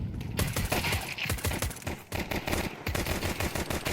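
Rapid pistol fire in Counter-Strike, a dense run of sharp cracks one after another with brief pauses, loud and close over a continuous background of game noise.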